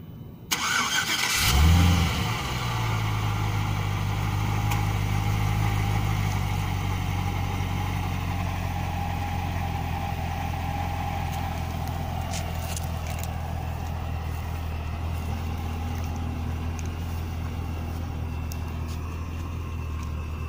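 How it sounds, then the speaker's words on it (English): A 2010 Cadillac CTS-V V8 cranks and fires with a loud burst, then settles into a steady, deep idle that rumbles on for the rest of the span with no talking. "Vehicle does have an auto start mode, and start it here."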